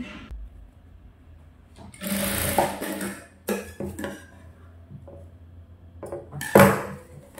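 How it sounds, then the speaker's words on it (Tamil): A sewing machine runs in short bursts stitching the side seam of a princess cut blouse, with clattering handling noises and pauses between runs. "இப்போ அந்த சைடு ஓரமாக ஒரு தையல் போட்டுக்கிட்டு"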